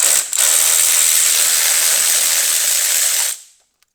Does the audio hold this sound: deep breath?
no